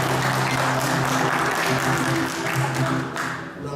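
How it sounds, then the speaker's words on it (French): A church audience breaks into loud, continuous applause, many hands clapping together at close range, fading slightly toward the end. "Je voudrais que vous puissiez vous acclamer,"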